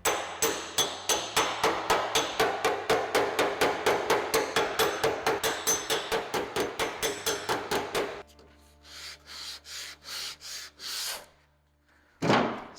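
A slapper spoon made from an old file pounds a dent out of a metal panel: a long, fast, steady run of about thirty sharp, close strikes, then a handful of slower, spaced blows after a pause.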